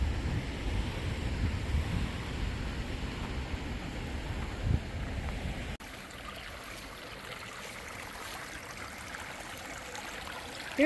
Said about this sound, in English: Here's the second stream crossing.